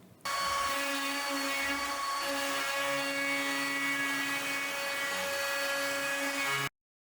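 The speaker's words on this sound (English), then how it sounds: "I'm using my CNC router to engrave an inlay." A CNC router engraves an inlay into a wooden cutting board, its steady high-pitched whine with strong tonal harmonics running continuously and loud for several seconds before cutting off abruptly.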